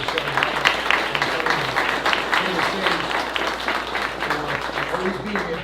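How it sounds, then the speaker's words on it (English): An audience at a Yonkers police commissioner appointment ceremony breaks into sustained applause, a dense, steady wash of many hands clapping at close range, with some talk mixed underneath. "give a round of applause and say thank you to Senator"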